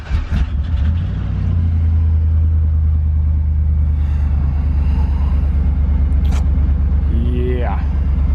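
A just jump-started car engine idles steadily and loudly at close range, a low continuous rumble with a brief rising whine near the end.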